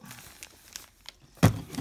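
Foil-wrapped 2018 Upper Deck Goodwin Champions trading card packs shuffled by hand, giving soft intermittent crinkles and rustles with one sharper, louder crinkle near the end, close and without talk.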